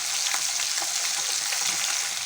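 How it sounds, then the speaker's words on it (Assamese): Fish sizzles steadily in hot oil in a pan for an Assamese fish curry, a close, even hiss with faint crackles and no talk. "এইফালে এতিয়া মই মাছ ফ্ৰাই কৰি আছোঁ।"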